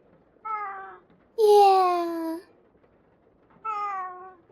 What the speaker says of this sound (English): There's his meow.